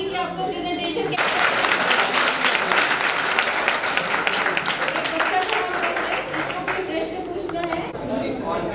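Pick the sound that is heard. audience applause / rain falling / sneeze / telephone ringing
audience applause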